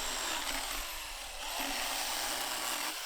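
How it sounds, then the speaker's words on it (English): A small 10-inch chainsaw whines continuously at a steady, high pitch as it cuts through thick railroad-tie timber, loud and close with a slight dip midway. "this little 10-inch chainsaw, but it actually did a pretty good job cutting through such thick timber"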